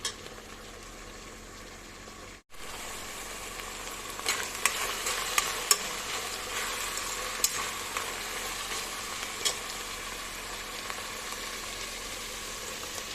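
Capia peppers sauté in a pan for karnıyarık, giving a steady close sizzle and crackle with occasional stirring scrapes, no talking.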